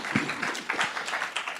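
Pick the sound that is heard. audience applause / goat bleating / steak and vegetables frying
audience applause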